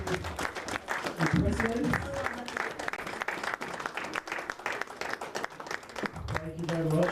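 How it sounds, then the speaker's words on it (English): Audience at an award ceremony gives a sustained round of applause for the President, steady dense clapping throughout, with someone speaking over it near the start and again toward the end. "May we stand for a loud round of applause for His Excellency"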